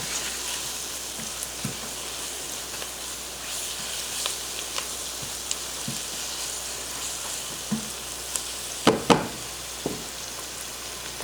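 Bacon and onions coated with sugar fry in a pan with a steady fine sizzle, punctuated by occasional soft clicks and scrapes of stirring, louder near the end.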